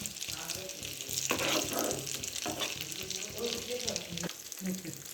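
Potato breakfast snack fries in a pan with a dense, steady sizzle, close and loud throughout, broken by a few scraping stirs.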